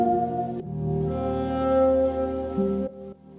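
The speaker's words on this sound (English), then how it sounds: "So I sampled this track that's like a piano intro from a song and kind of slowed it down" Slowed-down, repitched piano intro sample, warm sustained chords with a soft low tone, a brief change near the end before it drops away, alone without talk.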